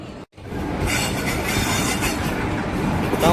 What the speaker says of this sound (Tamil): நம்ம ட்ரெயின் உள்ளே வந்துட்டுருக்கு.